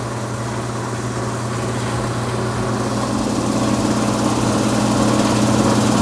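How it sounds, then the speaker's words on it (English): Bottom blower of a BDG Compact 1 mini granulator running, a loud steady machine drone with strong low hum and broadband whir that swells slightly as it spins up, with no talking. "I'm turning on the bottom blower right now to try to adjust it."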